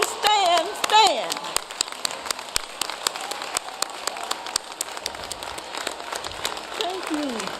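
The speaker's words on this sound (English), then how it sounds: "give him an applause that he deserves" Commencement crowd at a university graduation, with sparse, scattered clapping in sharp separate claps amid crowd noise and a speaking voice near the start.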